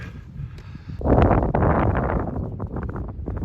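Strong gusts buffet the microphone outdoors near a railway viaduct in the Yorkshire Dales, giving a loud, rumbling roar that swells suddenly after a quieter start and stays constant.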